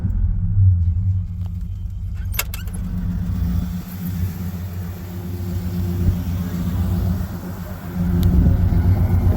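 A 1989 Mercury Grand Marquis engine cranks and catches, then settles into a low, steady rumbling idle heard close by. A few brief clicks come early on, and there is no speech.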